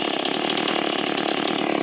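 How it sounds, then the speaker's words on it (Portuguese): Stihl 180 chainsaw cutting eucalyptus firewood, a loud, close, continuous high-revving buzz with a fast pulsing rasp from the chain biting through wood. "essa motosserrinha da Steel aí, ó"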